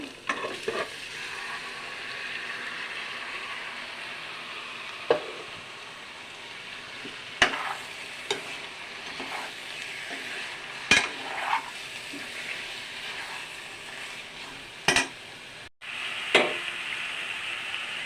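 Chicken sizzles and fries steadily in a pan, with intermittent sharp clinks and scrapes of a utensil stirring against the metal throughout.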